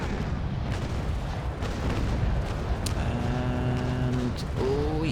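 Ship cannons fire in Naval Action amid a steady low rumble of sea battle, muffled booms throughout with voices speaking over them.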